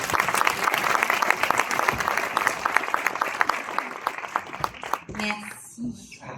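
Audience applause at an event in Orchies, dense steady clapping that thins and fades out near the end, followed by a few scattered sounds and a voice.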